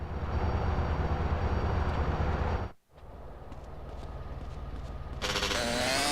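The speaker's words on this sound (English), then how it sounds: "Follow that train." Train in GTA San Andreas, a loud continuous rumble of rolling rail cars that briefly drops out, then resumes with a rising mechanical whine near the end.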